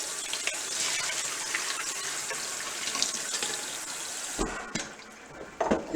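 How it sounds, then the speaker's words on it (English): Water runs steadily from a kitchen sink tap into the basin, a close, continuous rushing splash that briefly changes as something moves under the stream near the end, with no talking. "I like to run water when I do this."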